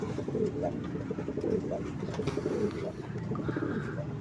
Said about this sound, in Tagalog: Yung pangalawa nating ibon, ayan, si Nela, ayan.